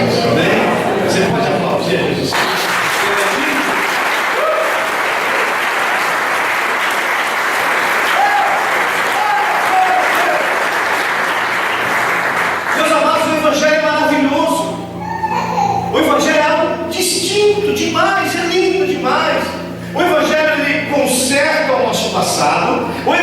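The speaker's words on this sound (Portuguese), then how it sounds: "Você pode aplaudir Jesus Cristo" A church congregation breaks into dense, loud applause that lasts about ten seconds, then fades as a voice and other sounds take over.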